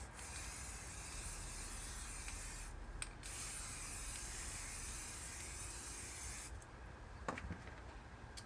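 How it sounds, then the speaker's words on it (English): Spray paint hisses from an aerosol can during hydrodipping of a shoe, one long, steady spray with a short break near the middle and a softer stretch at the end, heard up close and faint, with no talking. "I'm gonna spray in a little bit of yellow"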